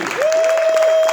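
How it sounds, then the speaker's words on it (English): Applause from an audience at an entrepreneurial mastermind event, a steady dense wash of clapping with a sustained whistle-like tone running through it. "Clap it up for Carlo, y'all."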